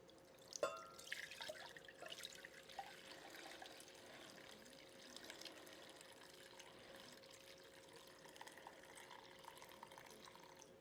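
Homemade fermenting soda is poured, giving a quiet, continuous trickle with a few small clinks near the start, heard alone.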